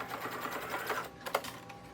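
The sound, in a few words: sewing machine stitching denim waist strap edge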